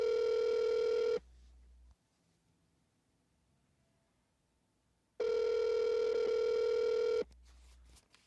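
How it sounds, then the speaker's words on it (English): A telephone rings twice, each long electronic ring followed by a few seconds of quiet, clear and fairly close. "you can hear the phone ringing on that end"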